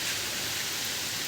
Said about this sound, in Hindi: हवा तूफ़ान के साथ ज़ोरदार बारिश भी हो रही है